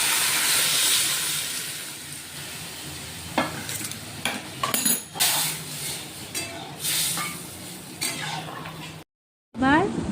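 Lentils tipped into a hot wok of onion and garlic fried until red, a loud close sizzle and hiss with scattered stirring scrapes and clinks against the pan, cutting off briefly near the end.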